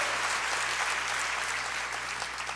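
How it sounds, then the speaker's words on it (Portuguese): A church congregation applauds together, a dense and steady wash of clapping that fills the room and holds at an even level without pause. "Pode dar uma salva de palmas ao Senhor"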